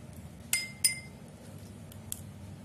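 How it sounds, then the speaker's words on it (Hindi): A spoon clinking against a bowl while tomato juice is stirred into a mixture, two distinct bright clinks close together followed by a few fainter taps over a quiet background, with no talking. "इस तरह से आपको टमाटर का रस मिक्स कर लेना है।"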